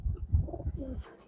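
Homing pigeons, including two Kalanka, a Phulshira and a black bird, coo softly and closely in a short burst as they are let out of a loft.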